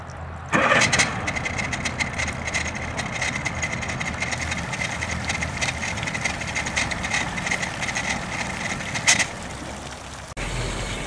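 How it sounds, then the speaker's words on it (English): A 2003 Mercury ELPTO two-stroke outboard engine on a center console boat cranks and catches at once, then runs in a steady idle before cutting off near the end, close and fairly loud with no talking. "We're now going to start the 2003 Mercury ELPTO two-stroke."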